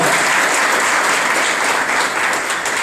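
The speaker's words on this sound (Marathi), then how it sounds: "याच्यासाठी जोरदार टाळ्या करा" A crowd at a Satara foundation branch inauguration bursts into loud, continuous applause, a dense even wash of clapping that barely fades over nearly three seconds.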